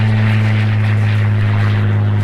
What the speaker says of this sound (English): I'll let the plane go over.